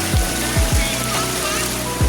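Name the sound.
water of Bhavli waterfall near Igatpuri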